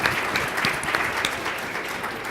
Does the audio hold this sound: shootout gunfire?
no